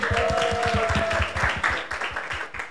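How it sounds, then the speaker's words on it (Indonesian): Applause with scattered claps rings out at a university roadshow, fairly close and loud, with voices and a brief tonal sound running under the clapping through the clip. "Kita tepuk tangan untuk kita semuanya."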